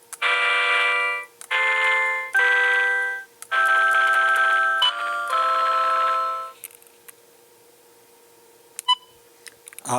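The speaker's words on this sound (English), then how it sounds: "I think it beeped because I think it ran out of song memory" A small DIY electronic piano kit plays a run of sustained organ-patch notes, then falls quiet before a single short, thin electronic beep sounds, followed by a faint click at the end.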